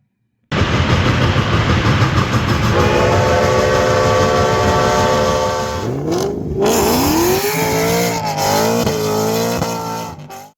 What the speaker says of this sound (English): we're talking about the mighty Norfolk and Western 611